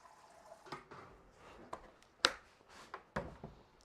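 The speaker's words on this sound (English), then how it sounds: "fill up his water bowl" Water trickles and drips into a snake's water bowl indoors, with soft irregular splashes and a few sharper plinks, quiet and close.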